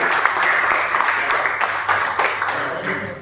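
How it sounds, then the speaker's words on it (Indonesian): Steady applause from a classroom audience for the third group of students, a dense even patter of many hands clapping throughout, fairly close and loud, with no one speaking over it. "Berikan tepuk tangan untuk kelompok yang ketiga."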